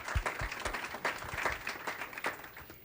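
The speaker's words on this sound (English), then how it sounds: "So again, a quick round of applause for all of our sponsors for sponsoring this event today." A quick round of applause at a 2017 civic innovation summit thanks the event's sponsors: fairly faint, loose clapping from a modest audience, with separate claps audible through the short burst.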